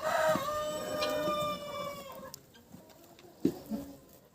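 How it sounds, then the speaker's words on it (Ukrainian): A Cochin rooster crows a long, loud call at close range, followed by quieter, scattered clucks and soft grunts from the Cochin hens nearby. "знаходжуся біля своїх курей кохінхін"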